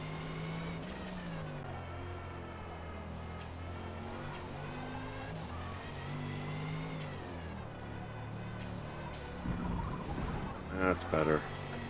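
A 2021 Audi RS 6 Avant engine in Forza Motorsport hums steadily at mid-Ohio racing pace, pitch shifting as the car brakes and accelerates, with someone talking over it throughout.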